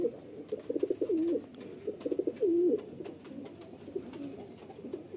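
Madrasi pigeons, a breeding pair, coo in repeated soft rolling phrases at close range, with short pauses between bursts and faint background noise.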